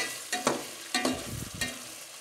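Ginger and whole black peppercorns are stirred in hot oil for yakhni pulao, with three or four scraping stirs over a soft sizzle, close and alone.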